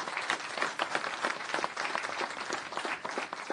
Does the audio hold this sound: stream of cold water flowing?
no